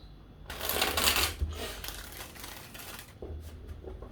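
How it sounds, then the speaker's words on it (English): A deck of tarot cards riffled in a quick, loud burst, followed by softer shuffling and a few light taps, close by with no speech. "I'm going to give this 4 shuffles."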